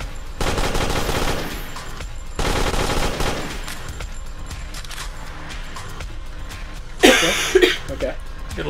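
Bursts of rapid automatic gunfire fired at spiders in a video game, two long volleys followed by quieter scattered shots, with someone talking and reacting over the shooting.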